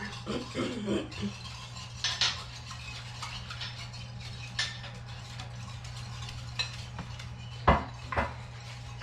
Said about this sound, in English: we're going to take a whisk and whisk it together until we don't see the sugar anymore